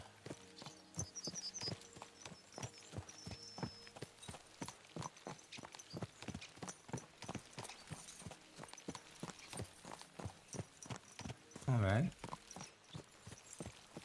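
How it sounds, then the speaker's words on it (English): Horses' hooves in the medieval video game Kingdom Come Deliverance 2 clip-clop at a steady, brisk pace throughout, close and clear, while someone briefly speaks over them and a horse snorts near the end. "Let's really spur these horses on, eh?"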